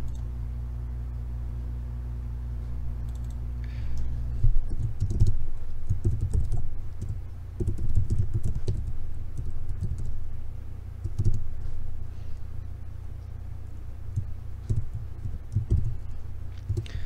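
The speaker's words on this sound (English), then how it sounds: "I'm going to type CUI at the command prompt again" Typing on a computer keyboard while entering CAD commands, bursts of close, crisp key clicks in uneven clusters following a short lull with a low hum at the start.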